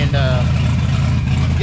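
A turbocharged Ford Mustang Fox Body engine idling close by, a loud, steady low rumble with even harmonics, and a voice faintly audible over it.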